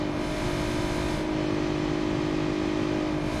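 Cars racing in BeamNG.drive, an Ibishu Pessima overtaking a Civetta Bolide: a continuous, loud engine drone with steady revving tones as the vehicles accelerate together, no speech heard.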